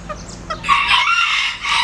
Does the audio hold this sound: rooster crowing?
yes